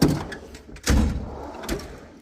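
A toolbox drawer in a diesel mechanic's tool chest slides and thuds, with a sharp thump near the one-second mark and a softer knock later, close and loud with no talk.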